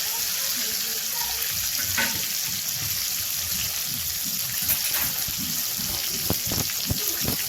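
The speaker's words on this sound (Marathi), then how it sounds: "वांगी व्यवस्थित परतून घ्यायची आहे." Stuffed brinjals coated in green masala sauté in oil for Maharashtrian khare vange, giving a constant close sizzle with scattered clinks and scrapes of a spatula stirring in the pan.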